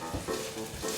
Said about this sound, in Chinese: 鍋內放入適量的油，把薑片放進來煸香。